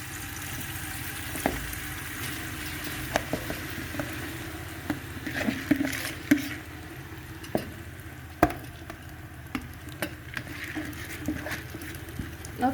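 Rice is tipped into jollof sauce in a pot and stirred, with a gentle simmering sizzle under intermittent scrapes, clinks and thumps of the spoon against the pot, close and moderately quiet.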